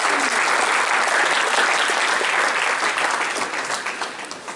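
A church congregation applauds loudly and steadily through a French Sunday worship service, dense clapping filling the whole stretch before tapering slightly at the end.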